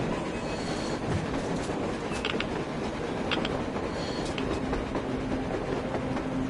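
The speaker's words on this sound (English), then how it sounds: "A train! A damn train on the surface!" A train from the video game Metro Exodus rumbles steadily past with rattling, clacking wheels and faint metallic squeals, a continuous mechanical roar without pause.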